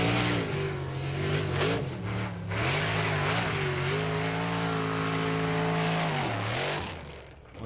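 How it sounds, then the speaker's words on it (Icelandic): A powerful off-road race car engine at a 1995 Icelandic formula off-road event roars steadily at high revs, pitch rising and dipping as the driver works the throttle, loud and close throughout. "Heyriði aflið í þessum bíl."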